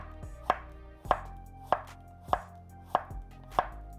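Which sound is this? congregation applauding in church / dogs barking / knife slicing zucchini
knife slicing zucchini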